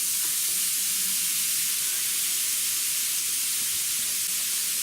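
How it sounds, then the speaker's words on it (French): Minced beef frying in olive oil in a pan gives a steady, even sizzle and hiss, close and continuous with no voices. "À présent, nous allons faire revenir le steak haché."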